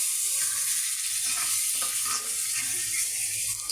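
Egg bhuna sizzles and fries steadily in a pan, a dense continuous crackle with a few faint scraping stirs, no voices.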